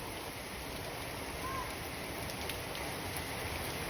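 Heavy rain pours down and bounces off concrete during flooding with strong winds, a dense, constant hiss of splashing water that stays loud and even throughout.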